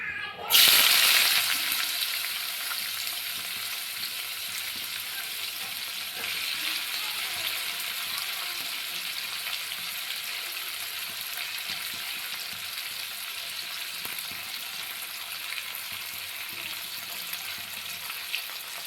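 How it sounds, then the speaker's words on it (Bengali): Chopped onions dropped into a hot pan for a chicken dish, starting with a sharp hiss and settling into a steady, close sizzle of frying that continues throughout. "এবার আমি এর মধ্যে কুচানো পেঁয়াজগুলি দিয়ে দিব।"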